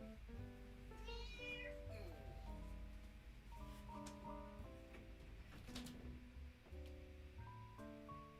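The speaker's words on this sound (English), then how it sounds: "My cat is wanting to escape," A house cat meows repeatedly at a closed room door, wanting out. The calls are faint and drawn out, with a person speaking over them and some rustling behind.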